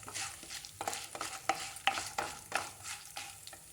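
Mustard seeds, urad dal, chana dal, cumin and dried red chillies crackle as they temper in hot oil for a Telugu chutney, a close, quiet run of irregular sharp pops over a soft sizzle.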